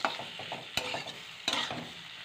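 Food fries in a pan with a crackling sizzle while stirring scrapes rhythmically, and two sharp utensil knocks ring out along the way, close and without speech.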